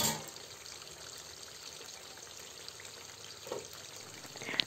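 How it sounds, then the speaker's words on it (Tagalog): French fries frying in hot oil while being stirred, a continuous soft sizzle and bubbling close by, with a brief scrape of the utensil and a clink near the end, no talking. "para maluto na at maging crispy na ang ating fries. Ayan, halu-haluin natin paminsan-minsan para hindi tumikit ang ilalim niya."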